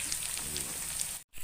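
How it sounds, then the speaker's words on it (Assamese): Meat fries in a pan over low heat, making a steady, rain-like hiss with faint bubbling that runs evenly for over a second before a brief dropout. "মই ল' ষ্টিমত মাংসখিনি ভাজি আছোঁ।"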